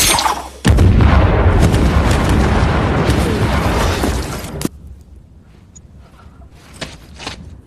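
Landmine explosions in a war film, set off when a Serbian soldier trips a wire: a sudden loud blast followed by several seconds of sustained roaring, crackling debris, then a sharp cutoff into quiet rumble with faint distant thuds.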